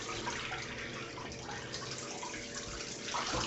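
Water runs steadily from a sink tap while a safety razor is rinsed under it, a continuous close, soft splashing hiss that swells slightly at the end.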